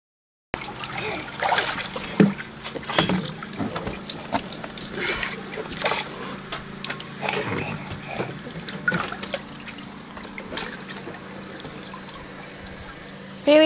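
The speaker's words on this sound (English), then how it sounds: "are you playing in the water?" A child splashes and plays in water outdoors in the sun, irregular near splashes and trickles over several seconds, with brief child sounds between them.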